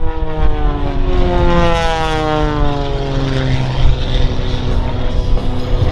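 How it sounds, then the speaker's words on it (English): Aerobatic propeller airplane tumbling end over end at the 2017 Wings Over Wayne air show, its engine droning loud and continuous for the whole stretch with a steadily shifting, swooping pitch as it turns. "turning the airplane and tumbling it again over again"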